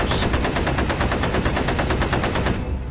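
Rapid machine gun fire from a sound effect in the B-17 Queen of the Skies board game, a loud continuous burst of evenly spaced shots lasting nearly three seconds before cutting off.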